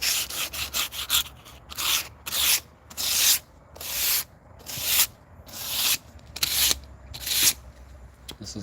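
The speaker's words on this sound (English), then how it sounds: "But all the sanding has to happen first" Rhythmic rasping strokes of sanding against a surface of a historic home before painting, back-and-forth bursts repeating steadily at close range with a low hum underneath.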